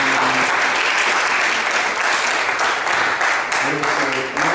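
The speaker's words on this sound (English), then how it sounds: "accept that applause as well" Loud, sustained audience applause fills a conference hall at a whale and wildlife fundraising talk, steady dense clapping throughout with a voice briefly heard near the end.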